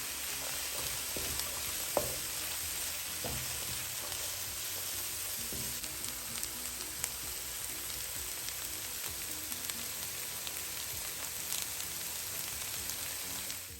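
Scallion and bacon stir-fry for fried rice, filling the pan with a constant loud sizzle and hiss, broken by occasional scraping and tapping of a utensil against the pan, close and steady throughout.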